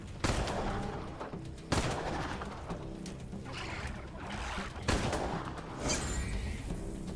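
Gunfire in the video game Wasteland 3, with several loud, sharp shots spaced a second or two apart over a dense, continuous backdrop of game noise.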